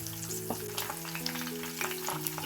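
Hot oil sizzles steadily as green chillies, a piece of ginger and peeled garlic cloves fry for a ground chutney, a close, even hiss with occasional light stirring ticks over quiet background music.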